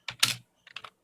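A few quick keystrokes are tapped on a computer keyboard, a burst of clicks followed by a couple of softer presses, close and clear in a quiet room.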